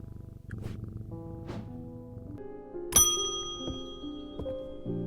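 A cat purrs low and steady in the video game Strange Antiquities, overlaid with soft chiming game music and a bright bell-like ding near the middle; no one talks.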